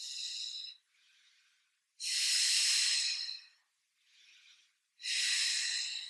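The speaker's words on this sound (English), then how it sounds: "Breathing, deep inhalation, deep exhalation." Slow, deep breathing during a relaxing Pilates stretch is heard close and alone. Long, strong inhales alternate with softer, shorter exhales in an even rhythm, three full cycles in all.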